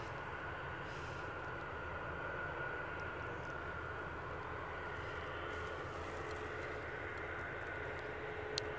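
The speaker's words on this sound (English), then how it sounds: "So as we watch this Heathrow arrival peel in" Heathrow arrival airliner approaching Edinburgh airport, a distant, faint and steady jet roar holding evenly throughout with no talk.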